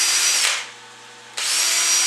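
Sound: high speed drill polishing transmission valve bores

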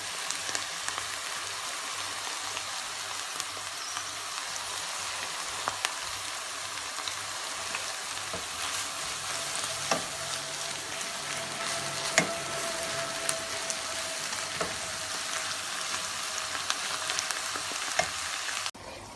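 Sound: minced meat frying in a pan

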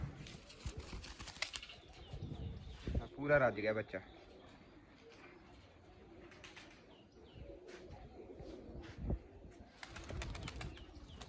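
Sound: baby pigeons cooing and flapping wings

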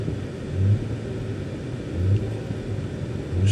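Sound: 2013 Audi A4 2.0L engine revving

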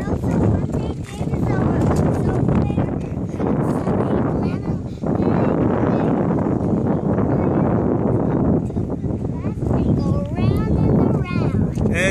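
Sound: wind blowing into the phone microphone

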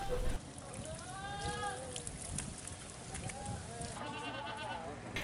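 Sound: sacrificial goats for sale bleating

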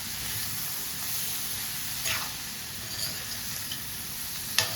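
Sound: frying prawns with vegetables in a pan

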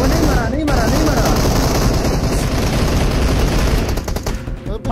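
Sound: gunfire in video game PUBG Mobile

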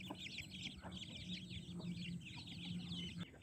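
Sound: hen clucking

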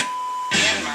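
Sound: beep from a 1966 Chevy pickup's original AM radio

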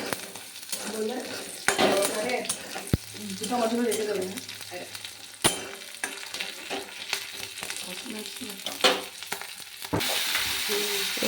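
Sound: frying ginger garlic paste with mushrooms and potatoes

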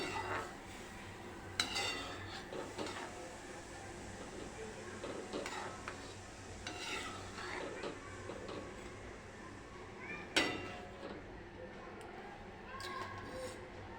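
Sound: stirring sweet vermicelli (sevaiya) with milk in a pot

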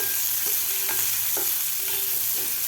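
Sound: onion being stir-fried in a pan

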